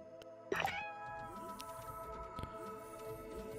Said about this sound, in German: Ach, das ist die Katze, ne?